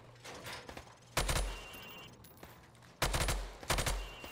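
Gunfire in Call of Duty: Modern Warfare Remastered as rounds are shot through plywood at targets: two loud, close bursts of shots, the first around a second long and the second longer, with quiet range ambience between them.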